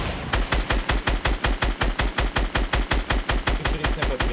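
Rapid automatic gunfire from a Fortnite match, a steady, loud burst of evenly spaced shots firing about five per second for several seconds, with no voices over it.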